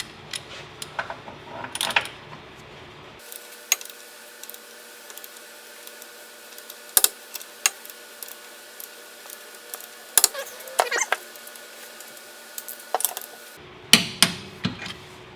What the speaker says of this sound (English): we're gonna go ahead and torque them down to 81 foot-pounds